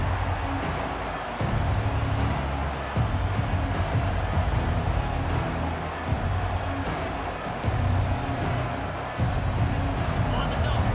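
A college football video game stadium crowd roars as a steady dense wash of cheering and babble, surging and dipping in pulses, with a commentator's voice partly over it.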